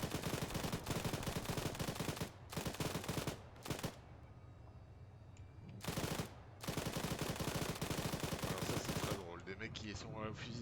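Sustained automatic gunfire from the military simulation game Arma 3 during an assault on a heavy tank, loud bursts with brief pauses, ending in a distorted electronic tail.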